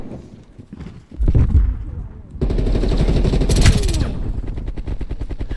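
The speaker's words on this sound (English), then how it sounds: "Ah! Sentry gun!" A sentry gun firing in the video game Call of Duty: Black Ops Cold War: a few heavy thumps, then a sustained, rapid, loud stream of shots, with a voice speaking over it.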